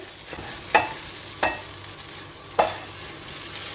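Oats and vegetables with chaat masala and spices being stirred in a pan, a soft sizzle underneath with three sharp scraping clacks of the spoon against the pan spaced across the stretch.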